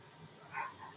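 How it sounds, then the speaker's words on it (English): A dog barks a few times at a moderate distance, short yips rising over a quiet indoor background with no one speaking. "I don't know what she's barking at"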